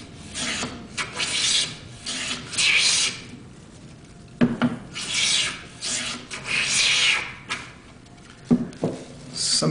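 Hand plane blade being sharpened on a stone, a steady rasping rub in long back-and-forth strokes, close and fairly loud, with brief pauses and small knocks between passes.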